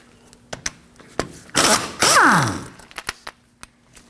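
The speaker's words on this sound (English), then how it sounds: "We can remove the axle nut with a 13 millimeter." Close metallic tool work on a 2009-2014 Ford F-150 front axle nut with a 13 mm wrench: a few sharp clicks and taps around a burst of ratcheting and a rising whirring spin, then more scattered clicks.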